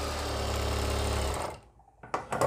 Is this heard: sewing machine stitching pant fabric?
yes